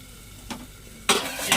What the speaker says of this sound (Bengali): টমেটো দিয়ে একসঙ্গেই দিয়ে দিলাম ভালো করে নেড়ে দিয়েছি